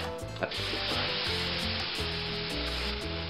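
Chicken stock pours into a hot pan of oil-coated frying rice for Spanish rice, setting off a loud, steady sizzle that swells and holds with a brief splash near the start.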